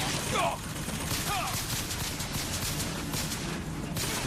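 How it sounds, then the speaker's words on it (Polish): A machine turret aboard a ship in the shooter BioShock keeps firing at the player, a steady loud rattle of rapid shots over dense noise with a few brief sharper accents early on. "jakaś machina do nas strzela"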